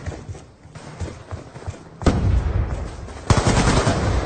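Gunfire in a Hardpoint match of an online shooter game, with rapid automatic bursts and thuds, loud and dense throughout and growing heavier partway through, over constant game noise.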